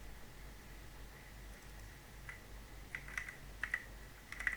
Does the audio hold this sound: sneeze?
no